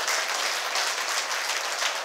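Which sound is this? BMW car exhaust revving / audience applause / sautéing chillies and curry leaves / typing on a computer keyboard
audience applause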